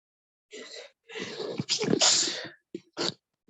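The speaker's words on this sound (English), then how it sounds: "No, sorry, I sneezed, sir." A person sneezes indoors with a sharp, loud burst followed by a brief breathy afterward, close up; a couple of short vocal sounds follow, heard alone without talk.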